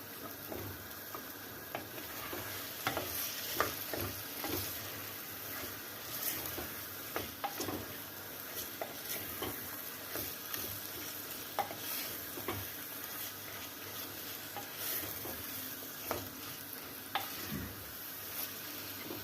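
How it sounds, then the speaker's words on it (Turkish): Food is sautéed in a pan while stews for pea and tarhana soup cook, giving a soft, continuous sizzle broken by frequent light scraping stirs at an even pace. "Biraz böyle kavuracağım. Sonra karıştıracağım."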